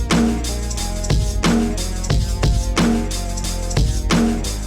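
Chopped funk drum break layered with an added kick and snare, punching out a steady, loud groove of repeated hits with no one talking.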